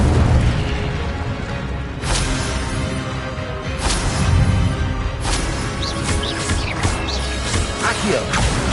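Fiery Incendio spell blasts in Hogwarts Legacy, a PS5 wizarding game, burst out as a string of sharp booming whooshes every second or two over a steady bed of game noise.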